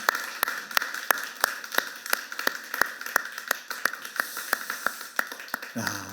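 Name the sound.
church congregation clapping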